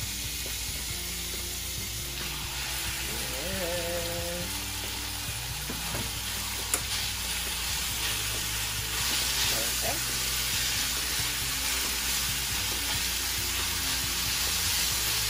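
Thin-sliced steak for a steak sub sizzles steadily in a hot pan, a dense continuous frying hiss with occasional stirring clatter and faint background tones, fairly close and without talk.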